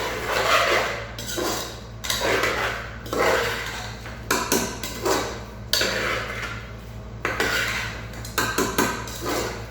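Fish is worked together with oil and spices in a bowl, giving repeated wet squelching and scraping strokes in uneven bursts, close and fairly quiet, with occasional clinks against the bowl and no talking.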